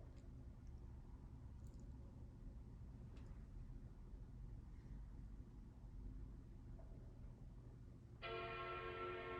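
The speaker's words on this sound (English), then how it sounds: "So we're looking for a total of 4 chimes." The startup chime of a classic Mac Pro rings out once near the end, a single clear tone after a long stretch of faint, steady room hum and fan noise.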